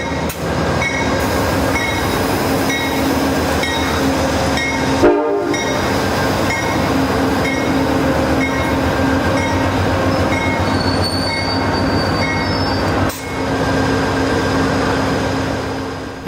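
An Amtrak Wolverine passenger train, number 353, rumbles loudly and close at Jackson station, with sustained horn-like tones, metallic wheel squeal and a continuous roar of rolling cars throughout.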